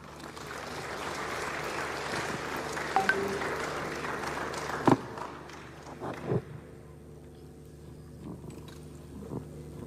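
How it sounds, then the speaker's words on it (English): Modest applause for the governor at a federal government citizens' engagement and project tour event in Ebonyi rises, then thins out midway, leaving a low hum and a few scattered knocks and claps. "I think that applause is too weak for the governor."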